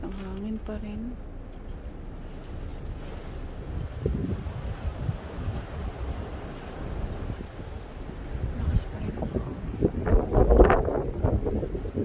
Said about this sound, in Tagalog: Ang lakas ng blizzard dito sa Canada